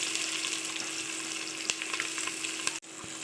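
Chopped onions sizzling in ghee with shahi cumin, cinnamon, cardamom and bay leaf for carrot rice: a dense, steady close frying hiss, with a brief stir or scrape near the end.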